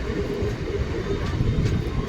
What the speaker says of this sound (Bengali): ট্রেনটা কার্ভ নিচ্ছে দেখুন